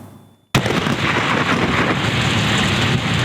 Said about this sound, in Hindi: रात गए विहाड़ी और गर्दोनवाह में गरज चमक के साथ बारिश का सिलसिला शुरू हुआ